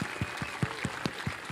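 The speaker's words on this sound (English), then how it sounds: "Actually, let's just have a massive round of applause." Scattered clapping from a small audience marking a Starlink milestone, a few distinct hand claps spaced roughly every fifth of a second over a faint room murmur.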